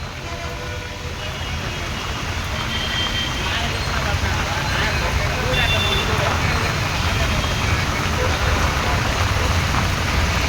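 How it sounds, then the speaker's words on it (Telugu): Heavy monsoon rain pours down in Tirupati, making a dense, steady roar that swells slightly louder as it goes on and fills the whole stretch. "వర్షం అయితే చాలా గట్టిగా పడుతుందబ్బా"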